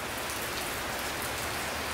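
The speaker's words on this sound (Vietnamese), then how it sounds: "Mấy cái này mưa quá." Steady rain falls outdoors in a dense, even hiss of drops on surfaces, continuous and fairly close with no voices, at an outdoor cooking spot.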